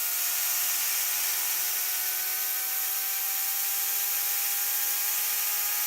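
A BilletSPIN Xeno BCA spinning top whirs at around 4,500–5,000 RPM, giving a steady, high-pitched hiss with faint sustained tones, continuous and close with no talking.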